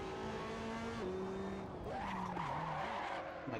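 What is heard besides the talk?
race car tires skidding from locked brakes, racing video game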